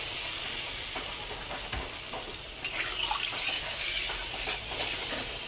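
Pointed gourd pieces frying in a pan while being stirred, a steady close sizzle with soft scraping of the spoon running throughout, no voices.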